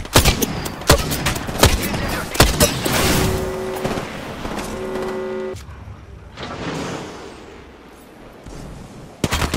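Gunfire from the video game Apex Legends: rapid bursts of sharp shots and booms in the first half, then a sustained tonal effect, a quieter stretch, and a final cluster of loud shots.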